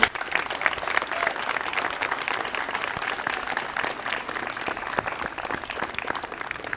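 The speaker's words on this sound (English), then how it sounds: "So I just want to give Ben a round of applause" An audience applauds Ben at a bystander CPR rescue event, a dense, steady round of clapping sustained throughout, fairly close and even in loudness.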